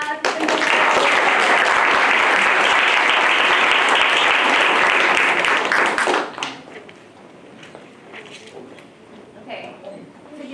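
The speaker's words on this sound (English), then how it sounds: "Hey, round of applause." Vigorous audience applause after a pitch at a university innovation challenge final, a loud, dense roar of clapping that holds steady for about six seconds, then drops off abruptly to scattered claps and murmuring chatter.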